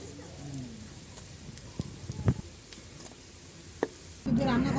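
Fish roe fritters frying in a pan, with a low sizzle running throughout and a few sharp clicks as they are turned and stirred. A louder burst of sizzling comes in at the end.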